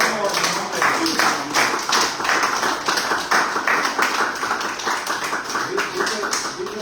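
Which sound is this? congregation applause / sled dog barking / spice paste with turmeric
congregation applause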